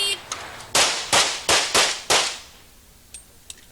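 Five sharp pistol shots crack in quick succession at a 1989 USPSA national championship stage, with loud close reports and faint distant pops trailing after.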